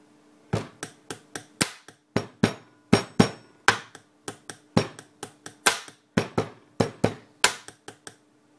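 A pen tapped on a desk in a drumming pattern: sharp, bright percussive taps in a steady, syncopated rhythm of about two dozen hits over several seconds, close and clear with no talking.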